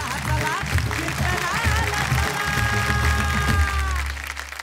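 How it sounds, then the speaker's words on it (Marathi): Audience applause for poet Vaibhav Joshi taking the stage at a Marathi kirtan talent show, loud sustained clapping from a crowd with a voice calling out and music tones rising over it. "जोरदार टाळ्या झाल्या पाहिजे"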